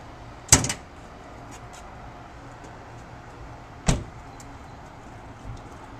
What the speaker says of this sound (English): The first thing I'm gonna do is pop the hood and show you the engine.